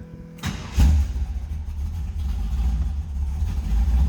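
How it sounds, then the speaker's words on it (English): A 1971 Chevrolet Nova with a 502 engine cranks briefly and fires up, then settles into a loud, deep, rumbling idle that stays steady and close, with no talking. "let's fire this up"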